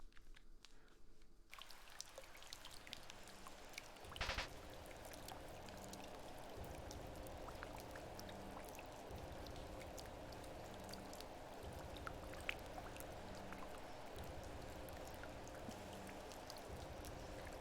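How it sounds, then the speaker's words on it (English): Steady, even patter of rain falling on an umbrella in the game Omori, a continuous soft hiss with a brief louder splash early on and no talking. "The sound of falling rain as it hit your umbrella."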